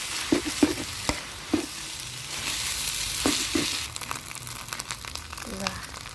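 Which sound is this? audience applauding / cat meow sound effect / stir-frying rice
stir-frying rice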